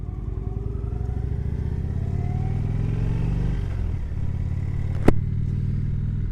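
A 2019 Indian Chief Vintage motorcycle pulling away, its engine a loud, close, low throbbing rumble that climbs briefly, eases off, then carries on under a sharp click.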